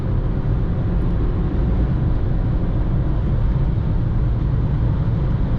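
Skoda Fabia 3 with 1.0 MPI 60 hp engine cruising at speed on the autobahn, a loud, steady low drone of engine, tyre and wind noise from inside the cabin with no variation.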